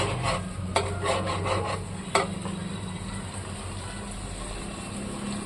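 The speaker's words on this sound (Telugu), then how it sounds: "చక్కగా వేయించుకుందాం ఇది వేగుతున్నప్పుడే" Garlic paste fries in oil in a pan for a paneer and peas masala curry, giving a steady close sizzle with scraping stirs and a couple of sharp spoon knocks, no voices.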